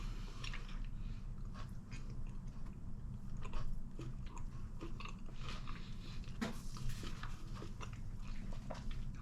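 Someone eats an air-fried chip wrap with brown sauce at lunch, close chewing and biting sounds continuing steadily with soft crunches throughout.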